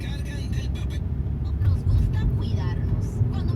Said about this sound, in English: driving perilously with an actual flat tire caught on tape